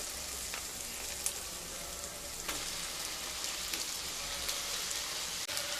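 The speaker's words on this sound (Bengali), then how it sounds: "পেঁয়াজ আদা রসুন যখন খুব ভালোভাবে কষানো হয়ে যাবে, তখন ম্যারিনেট করা মাংসটা দিয়ে দেব।" Marinated chicken hits a hot pan of frying onion, ginger and garlic paste for a mustard chicken curry, giving a steady, dense sizzle and crackle throughout with a few small pops.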